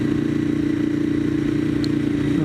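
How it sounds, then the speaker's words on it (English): A Ducati M1100 Evo motorcycle engine heard while riding, with a steady, loud low-pitched drone and pulsing thrum at a constant pace, recorded up close with no talk. "is going to allow you to hear much more of the engine and the bike"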